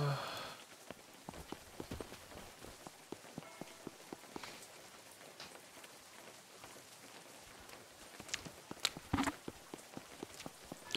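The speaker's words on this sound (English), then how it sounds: "Oh, it's raining too." Rain falling in the survival video game Unturned, a steady patter of drops on surfaces with scattered sharper ticks and faint footstep-like taps, moderately quiet throughout.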